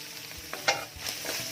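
Garlic sizzles and crackles in a pan as minced pork with lemongrass is stir-fried, with short scraping stirs breaking up the steady frying hiss.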